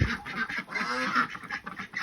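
Ducks sheltering from the rain quack in a busy, overlapping chatter, fairly close, with a soft patter of rain and outdoor noise behind and no talking.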